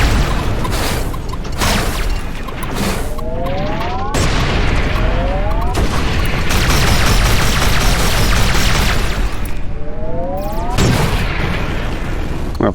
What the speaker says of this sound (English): I don't appreciate you shooting missiles at me